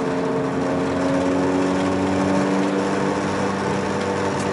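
VW Golf MK4 GTI engine cruising steadily around 3,000 RPM, a loud, continuous, even drone with a constant hum and steady road and wind noise, no talking.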